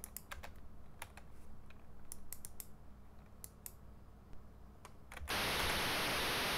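An AY-3-8912 sound chip plays its noise channel alone with the tone switched off, a sudden loud hiss of white noise that starts abruptly after several seconds of quiet keyboard typing and clicks.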